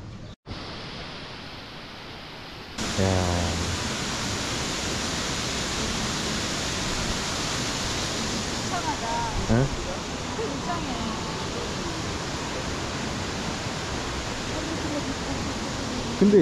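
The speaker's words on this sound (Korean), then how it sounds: "여기서 샘물이 만들어져서 폭포를 이룬다고 그랬어." Water from a spring pours between cliffs in a waterfall, giving a steady, broad rushing roar throughout, with faint voices occasionally audible beneath it.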